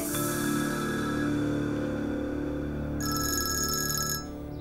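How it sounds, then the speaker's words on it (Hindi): A telephone rings indoors in a Turkish drama, a steady electronic ringtone that repeats over background music, with a brighter burst of ringing near the end and no talk. "तुम्हारे बाबा का फोन है, मैं बात करके आता हूँ।"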